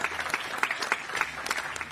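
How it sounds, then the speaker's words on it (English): An audience applauds steadily throughout at an anti-monopoly summit, a dense patter of clapping at moderate distance with no voices on top. "let's clap for that"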